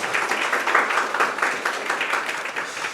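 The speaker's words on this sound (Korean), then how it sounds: "다시 한번 박준철 교수님한테 박수 한 번만 부탁드리도록 하겠습니다" An audience at a fire-service exam live-talk seminar claps for professor Park Jun-cheol after his administrative law session, a brief burst of brisk, even clapping with no voices over it.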